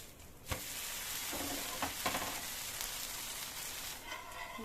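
Leftover rice dosa batter sizzling in butter on a hot pan, a loud continuous frying hiss with a few sharp spatter pops and scrapes, no voices.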